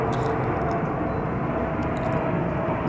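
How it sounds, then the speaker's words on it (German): A steady, broad engine roar from an airplane overhead fills the clip, constant and fairly loud with no talking. "Oh, ein Flugzeug."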